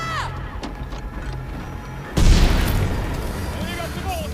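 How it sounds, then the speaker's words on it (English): Grenade blast in a war film, a sudden deep boom that cuts in halfway and rumbles on under continuing battle noise, preceded by quieter background sounds and whistles. "Attention à la grenade!"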